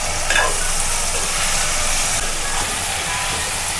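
Cluster beans fry and get stirred in a pan, a loud, steady close sizzle with occasional scraping from the spatula and no voices.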